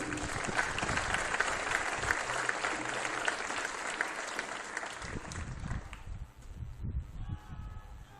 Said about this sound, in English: So give another round of applause to our speakers and our audience.